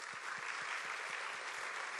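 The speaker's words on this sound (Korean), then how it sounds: "인사할 때 박수로." An audience claps in welcome at a school chapel service, steady dense applause from a crowd lasting the full two seconds, with a faint low rhythmic thumping beneath.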